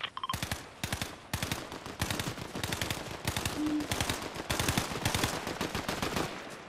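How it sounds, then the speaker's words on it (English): Rapid gunfire in the video game Fortnite, with loud, sharp shots fired in quick bursts and runs, nearly continuous and close throughout. "there's people shooting, so get ready"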